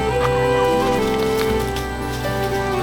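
Backyard chickens, a flock of hens, cluck and murmur close by in a steady stream of short calls.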